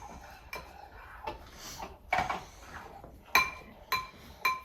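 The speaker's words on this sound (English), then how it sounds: "Can you stir that all up for me?" A spoon stirs honey cake batter in a bowl, producing faint scraping under scattered sharp clinks of utensil against dish.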